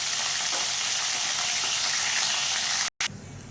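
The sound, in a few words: fish frying in oil until reddish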